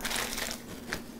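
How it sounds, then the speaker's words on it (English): Chilled galette dough being unwrapped from parchment gives soft crinkling and crushing paper rustles, close and fairly quiet, over a steady low kitchen hum. "I'm going to unwrap the dough and pull out the piece of parsley that got stuck in there"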